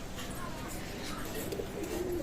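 A Teddy-type Oman Royal pigeon coos softly, a low throaty murmur rising late in the moment over a faint background hum.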